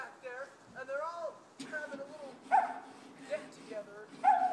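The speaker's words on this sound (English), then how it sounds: "Six dogs back there" Several dogs, about six, bark and yip in bursts from behind a house, mixed with whimpering howls at moderate distance, with people talking over and between the barks.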